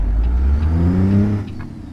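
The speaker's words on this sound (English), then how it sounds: "so you can hear the truck running, going through the gears, driving down the road" Truck engine in American Truck Simulator humming at a low steady pitch, then rising as it revs before easing off near the end, close and prominent with no talk.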